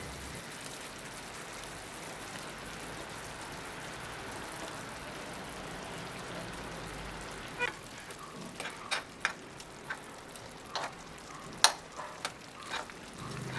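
Boiled eggs go one by one into a masala gravy for egg tawa fry, heard as a soft, steady sizzle followed by a run of sharp clicks and taps as each egg is placed and moved in the pan.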